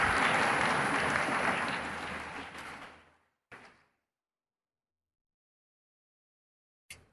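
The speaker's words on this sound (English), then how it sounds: "A big round of applause for Nandini Yadav" An audience applauds a student speaker at a school event with dense clapping for about three seconds, which fades and cuts off, leaving near silence broken by two brief sounds.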